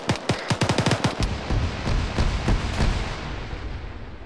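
Grenades explode in a military video game. A rapid string of sharp cracks gives way to several heavier, spaced booms, which fade into a lingering rumble.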